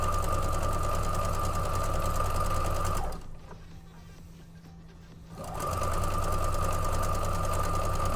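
A sewing machine runs loud and close, steadily stitching fabric pieces cut on the bias, pausing briefly in the middle before resuming its even, rapid rhythm.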